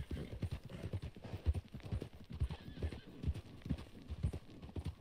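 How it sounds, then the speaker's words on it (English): Steady hoofbeats clip-clop at a walking pace in Red Dead Redemption 2, close and fairly loud, with a horse whinny mixed in and game ambience underneath. "Is that a horse?"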